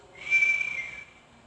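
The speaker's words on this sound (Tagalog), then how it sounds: "Sumisipol." A person whistles a single sustained high note lasting under a second, fairly close and clear against a quiet background, with no talking.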